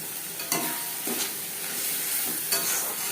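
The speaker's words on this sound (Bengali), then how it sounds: "মাছের তেল বেশ ভালো করে মিক্স করে দেবো" Fish oil frying with onions and spices in a pan, a soft steady sizzle with a few scraping stirs of the spoon, faint and close, no voices.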